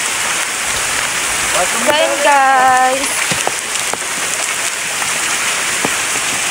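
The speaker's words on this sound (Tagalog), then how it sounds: "Naliligo kaming ulan" Steady broadband hiss of heavy rain falling all around during flooding, with a brief tonal chirp and a short spoken line partway through.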